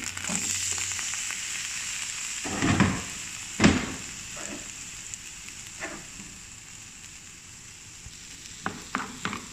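Tomatoes sizzle steadily in a little oil in a pan for egg cooking, with a spoon scraping and stirring through them in a few clattering strokes, close and fairly quiet.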